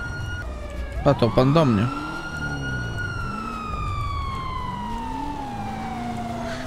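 A police siren wails in GTA role-play, rising and sliding in long sweeping tones under engine noise, while someone talks briefly near the start.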